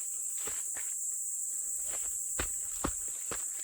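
Footsteps walking on a quiet natural forest trail in Yanggu, with about seven soft, spaced crunching steps up close against a steady high insect or cricket hum.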